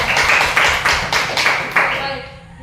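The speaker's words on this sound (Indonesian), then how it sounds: "baik, tepuk tangan" Students in a classroom clap in unison, about six sharp rhythmic claps in a row, loud and close, then fading into room tone.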